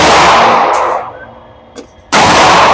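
A Fusion Firearm XP Pro Limited Edition PVD Bronze pistol is fired; a loud close blast rings out and decays, then a second sharp report hits after a short pause.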